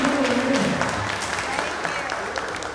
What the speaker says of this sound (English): And now a big round of applause